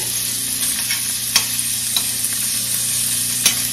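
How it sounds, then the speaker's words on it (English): Salt pork and bacon fat fry in a pan with a constant loud sizzle, broken by a few sharp pops and crackles and faint stirring. "we let this here fry up just a little bit to get that goodness out of it"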